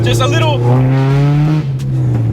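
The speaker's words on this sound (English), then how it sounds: "just a little crack of VTEC" A Honda fitted with a K-series swap engine revs, the note climbing to a raspy VTEC crack before dropping back, with someone talking over it.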